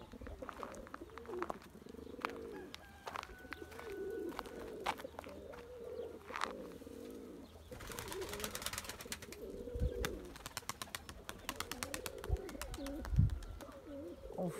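Young blue pigeons at a Turkish pigeon loft coo steadily in soft repeated phrases, with occasional wing flaps and a few sharper chirps nearby, continuous throughout with no talking.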